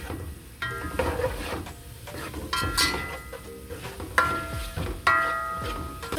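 Vegetables being stirred with seasonings in a hot pan, a spoon scraping and clinking against the metal in repeated strokes over a steady sizzle, close and fairly loud.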